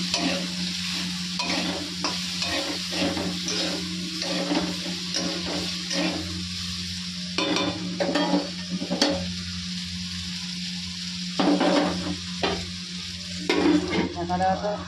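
Potatoes frying in a pan with ginger, cumin, bay leaf and green chillies for a curry, giving a loud steady sizzle over a low hum, punctuated by regular rhythmic stirring scrapes and a few sharp clinks.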